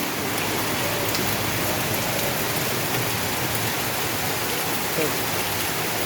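Heavy rain pours down in Jaipur, Rajasthan: a dense, even roar of falling water that stays constant and close with no break.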